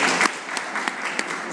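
An audience claps at a Lalit Kala Akademi anniversary ceremony: a short, dense burst of applause from a crowd with a few sharper individual claps, loud and close.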